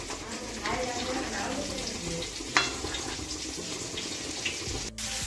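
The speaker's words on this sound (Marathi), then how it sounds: "आपली फिश फ्राय चालू आहे या ठिकाणी." Fish frying in a pan in a home kitchen, a steady broadband sizzle running throughout with a few brief clinks and a short gap near the end, no talk over it.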